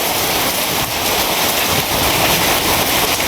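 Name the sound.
heavy rain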